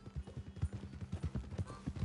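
A small horse in the video game Red Dead Redemption 2 clip-clops along at a steady walking rhythm, the hoofbeats soft and evenly spaced for about two seconds with no talk.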